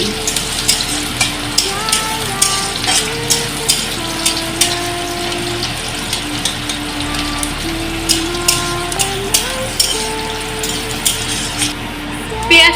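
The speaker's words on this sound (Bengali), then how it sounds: "এবারে দিয়ে দিচ্ছি পেঁয়াজ কুচিগুলো তারপর নেড়ে চেড়ে নিচ্ছি" Chopped onions fry in ghee while being stirred, with a steady, dense sizzle and crackle and occasional scraping stirs throughout; no one speaks.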